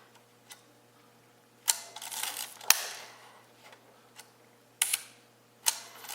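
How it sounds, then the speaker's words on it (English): Several sharp mechanical clicks of a Minolta Hi-Matic 11 film camera shutter at slow speed, some followed by a brief whirring pause before the second click, close and quiet otherwise. "if I put it on a slow shutter speed, like an 1/8 of a second"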